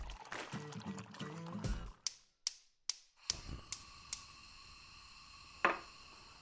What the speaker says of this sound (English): We're gonna fill this up with water